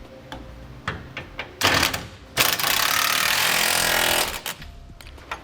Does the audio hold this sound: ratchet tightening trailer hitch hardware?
yes